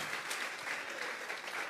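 A church congregation gives a round of applause as an offering of praise, a dense, even patter of many hands clapping, moderately distant and continuous with no talk over it.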